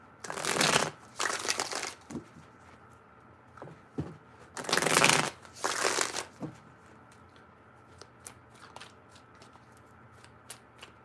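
Tarot cards being shuffled in several loud, close riffling bursts separated by pauses, followed by softer scattered card taps and handling noises.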